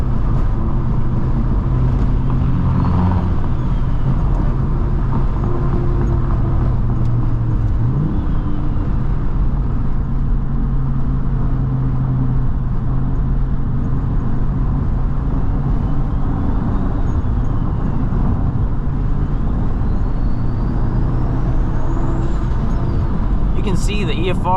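A manual Volvo S60R with a big EFR turbo drives a canyon road, its engine droning loud and steady with a constant low rumble and road noise throughout, while a voice talks over it.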